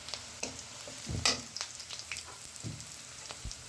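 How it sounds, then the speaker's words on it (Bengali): Chopped onion, garlic and slit green chilies sizzle and crackle in hot oil with cumin seeds, a steady close fry broken by scattered pops and stirring scrapes, no voices. "জিরা ফোড়ন দিয়ে পেঁয়াজ কুচি, রসুন কুচি আর চেরা কাঁচামরিচ দিয়ে নেড়ে হালকা লাল করে ভেজে"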